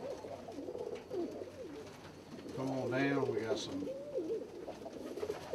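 Fancy pigeons coo in a loft of show breeds, a few low throaty rolling calls rising over someone talking nearby.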